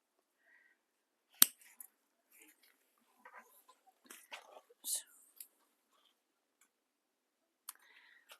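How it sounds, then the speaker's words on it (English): Scissors snip a fabric corner with a few sharp, sparse cuts and soft clicks spread out, close and quiet, with faint handling noise between them in a still room. "Okay, and then we're going to snip the corner down here."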